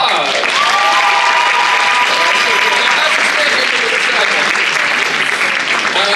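A large audience at a speech night breaks into a loud, sustained round of applause, with steady dense clapping and crowd noise throughout, and a few voices carrying over the top.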